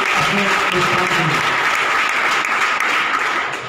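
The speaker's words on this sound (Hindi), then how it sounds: "एक बार जोरदार तालियां आप सब योद्धाओं के लिए" Loud, dense applause from a gathered crowd honoring the warriors at a local event in Makrana, a continuous roar of many hands clapping close by for the whole stretch.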